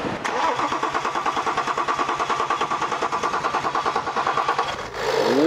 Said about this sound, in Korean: 엔진 소리 좋은데?